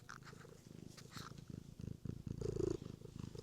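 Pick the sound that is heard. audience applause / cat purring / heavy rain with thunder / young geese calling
cat purring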